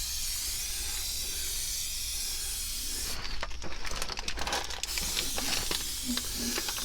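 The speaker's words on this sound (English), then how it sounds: "I'll give it a good spray." A steady brake cleaner aerosol spray hisses for about two seconds over a low background rumble, with light handling clicks before and after, during an oil change on a 2003-2007 Honda Accord.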